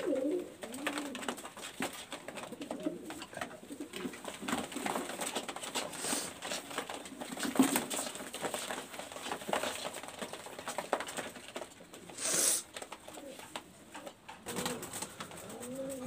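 Kamagar pigeons, including young birds from an inbred line kept for tournament flying, coo softly and intermittently at a distance, mixed with faint wing flutters and light shuffling in the loft.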